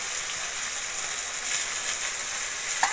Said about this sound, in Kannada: ಚೆನ್ನಾಗಿ ಎಣ್ಣೆಲಿ ಬಾಡಿಸ್ಬೇಕು